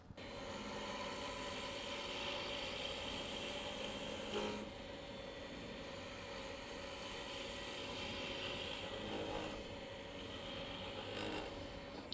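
A woodturning lathe spins a small 3/4-inch square blank of scrap maple while it is rounded, giving a steady motor hum with a scraping, rumbling cut that briefly dips and resumes around the middle.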